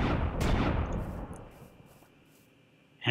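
A single booming blaze shot from the Hunter's Handgun in Minecraft Hexxit, a loud blast that rolls off into a long fading tail, then near silence before a short new burst of sound at the end.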